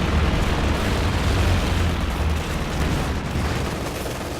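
Anti-infantry strafe explosions hit a base in a strategy video game, a continuous rumbling barrage of booms and bursts with heavy low-end weight, loud and sustained.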